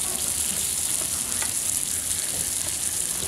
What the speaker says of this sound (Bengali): দুদিক ভালোভাবে উল্টায় পাল্টায় আমি ভালোভাবে ভেজে নিচ্ছি